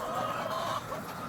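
Hens clucking inside a closed-in egg-laying chicken house, a dense continuous murmur of many birds at moderate distance, steady with no talk over it.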